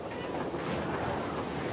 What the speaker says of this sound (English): As the ship is swallowed by the ocean,